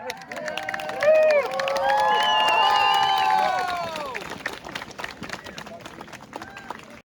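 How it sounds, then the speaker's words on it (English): A Ukraine-support protest crowd outside the Russian Embassy in Ireland erupts in cheering and clapping, with raised voices swelling loudly for a few seconds before fading into a looser murmur of applause. "Applause, applause!"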